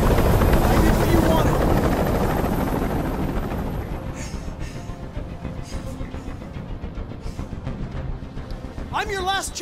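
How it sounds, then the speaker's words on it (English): Helicopter hovering in the video game Detroit: Become Human, a loud continuous rotor and engine drone that fills the opening seconds and then eases back under a dramatic scene with a voice speaking over it. "Tell that helicopter to get out of here."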